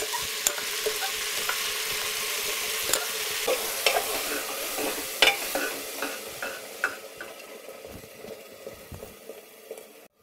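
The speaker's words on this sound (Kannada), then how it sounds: "ಅವರೆಕಾಳು ಮತ್ತು ಆಲೂಗೆಡ್ಡೆನ ಸ್ವಲ್ಪ ಎಣ್ಣೆಯಲ್ಲಿ ಫ್ರೈ ಮಾಡಿಕೊಂಡು ನಂತರ ಈಗ ರುಬ್ಕೊಂಡಂಥ ಮಸಾಲೆನ ಸೇರಿಸ್ಕೊತಾ ಇದ್ದೀನಿ" Ground masala is stirred into field beans and potatoes frying in a little oil, giving a steady sizzle with scraping spoon strokes and clinks near the pan, no talk, fading to near quiet at the end.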